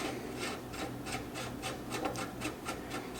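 A Deadair 3 prong flash hider is twisted by hand onto a rifle barrel, giving a close series of short rasping scrapes in a steady, repeating rhythm with no talk.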